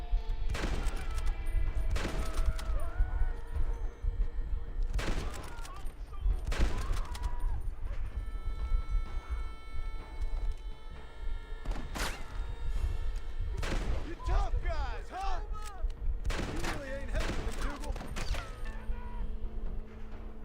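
Gunfire in the Western video game Red Dead Redemption: repeated sharp shot bursts and volleys spread across a busy, continuous game soundscape with music and effects, loud and dense throughout.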